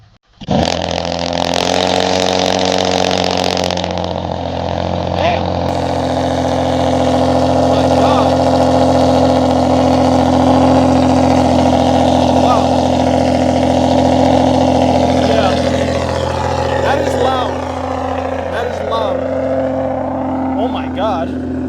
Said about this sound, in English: that cold start is insanely loud